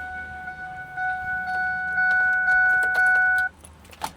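Steady electronic chiming tones ring for a few seconds inside a 2006 Ford F250, then stop, followed by a light metallic jingle of car keys close by.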